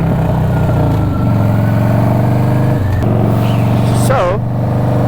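A Harley-Davidson Dyna motorcycle engine cruising, a loud, close, steady low rumble with a lumpy pulse, briefly changing pitch partway through and ending with a short rising whine.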